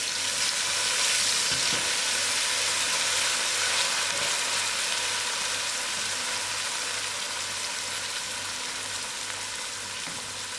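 Ginger garlic frying with onions and curry leaves makes a continuous close sizzle, with a faint regular hum beneath and an occasional soft stirring knock.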